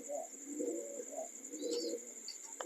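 Heavy boot and American fantail pigeons coo in soft, repeated throaty phrases close by, with faint higher chirps mixed in and no talking.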